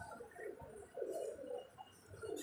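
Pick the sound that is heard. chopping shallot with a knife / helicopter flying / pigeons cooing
pigeons cooing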